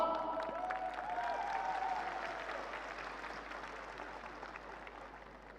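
Crowd applause at a large cryptocurrency conference, steady clapping that swells and then slowly fades, heard at a distance and fairly faint beneath a brief melodic tone.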